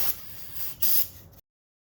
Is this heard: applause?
no